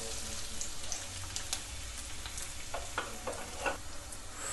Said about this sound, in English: oil is hot, add chopped onions